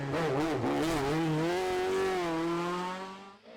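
A Ford Escort RS rally car on a historic rally stage, its engine loud and sustained with rising and falling revs as it drives past, fading slightly at the end, no voices.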